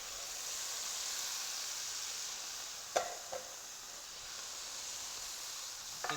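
Peas and corn go into a pan of fried rice with a steady soft sizzle and hiss, a couple of brief clinks or stirring knocks near the middle and end.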